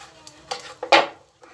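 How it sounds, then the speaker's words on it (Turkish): Cut potato pieces drop into a bowl of plain water in a home kitchen, giving a few short splashing plops and a soft clatter against the bowl, close and brief. "Ve onları da kararmamaları için hemen suyumun içerisine atacağım."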